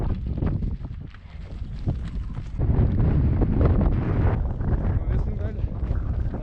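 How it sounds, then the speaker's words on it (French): Wind rising and gusting across a mountain trail on a Vosges ridge during a trail race, a broad, steady roar buffeting the microphone that swells louder midway and stays strong, with no clear talk. "on a du vent qui se lève"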